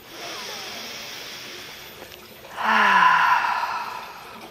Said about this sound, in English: take a deep breath in and exhale